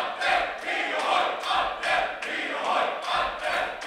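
A wrestling crowd at an FCF Wrestling event cheers and chants in steady rhythmic waves, a group of voices rising and falling together at moderate volume in a hall, with no single voice standing out.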